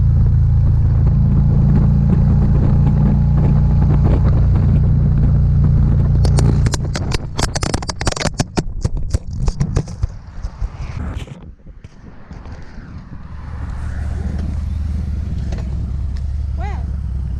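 Harley-Davidson Road King Special with a Vance and Hines Torquer 450 exhaust, a deep rumbling exhaust note while riding, broken midway by wind buffeting and clattering bumps, then the rumble steadies again.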